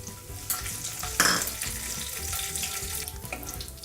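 Cumin seeds, chana dal and two dried red chillies crackle in hot oil for ridge gourd chutney, a busy sizzle with stirring clatter and a brief sharp splash of sound near the start.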